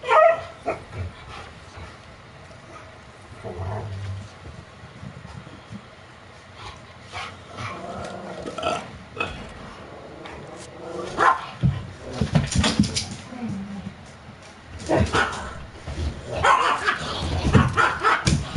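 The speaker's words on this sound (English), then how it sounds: "Hey, you dogs, knock it off." Several dogs bark and yip in irregular bursts, fairly near, sparse at first and then growing louder and more frequent toward the end.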